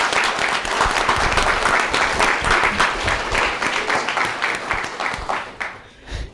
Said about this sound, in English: So let's give them a round of applause on that.